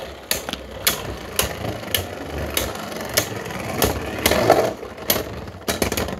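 Beyblade spinning tops, Inferno Wild Boy and Turbo Achilles, clash in a battle, sending out a rapid series of sharp metallic clacks and knocks over a whirring spin, close and fairly loud.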